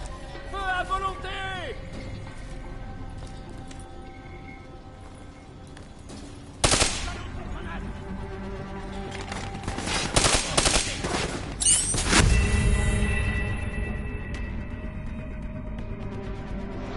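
Gunfire and machine gun fire in Call of Duty Black Ops III: sustained loud battlefield shooting with bursts of automatic fire, sharp cracks and heavier impacts, mixed with shouted voices and mechanical noise throughout.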